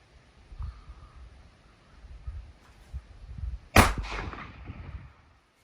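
A 140-year-old revolver fires once at a target 140 yards off, a single sharp, loud report with a short ringing tail amid outdoor background noise.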